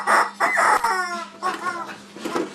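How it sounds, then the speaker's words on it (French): A chicken crows and clucks up close in a few loud, rapid bursts, strained and warbling, with short pauses between calls. "Excusez, ça c'est mon poulet."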